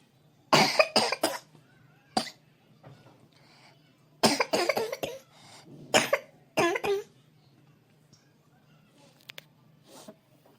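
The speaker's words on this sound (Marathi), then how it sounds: "मला अशा खोकला येतडे" A woman with a cold coughs in several harsh, close clusters separated by short pauses, over a faint steady hum.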